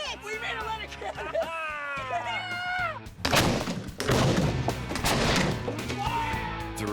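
A cannon made of leather fires with a sudden loud blast followed by a rumbling burst, set among excited voices talking before and after.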